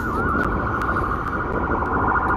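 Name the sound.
ambulance siren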